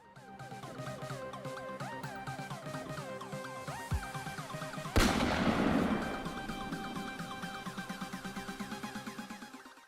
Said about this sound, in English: Just unlock it and your gun fires.